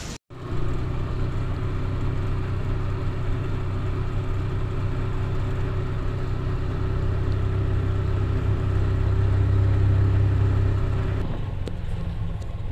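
A motorized tricycle's engine drones steadily throughout a ride, a loud, close rumble that swells slightly near the end before easing off, with no talk.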